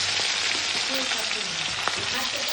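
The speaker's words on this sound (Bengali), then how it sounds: "কড়াইটা বেশ গরম হয়ে গেছে এই দেখো এক এক করে সব মাছগুলো" Turmeric- and salt-rubbed fish fry in a very hot kadai, a close, dense sizzle and crackle running steadily with a few soft clinks of handling.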